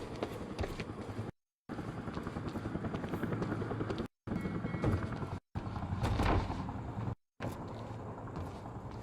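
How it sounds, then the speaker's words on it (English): Helicopter in the video game Quantum Break, a steady rotor chop and engine drone overhead, fairly loud and continuous, broken by several short silent gaps, with no talking. "Better get inside before the chopper spots me."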